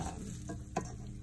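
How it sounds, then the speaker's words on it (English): Dry short grain rice being sautéed in a pan on moderate heat for Spanish rice, a steady soft sizzle with a scraping stir partway through, close and fairly quiet, no talking. "You're going to add it in dry and go ahead and saute that for a little bit"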